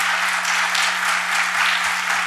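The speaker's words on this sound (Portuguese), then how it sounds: "um aplauso efusivo para o Dr." Enthusiastic audience applause at a mediation congress, dense and continuous clapping from a crowd filling the whole moment without a break.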